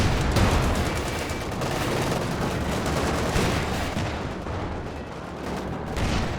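Anti-tank guns fire in Company of Heroes 2 amid a dense, continuous battle din of booming shots and rattling gunfire, loud and unbroken throughout.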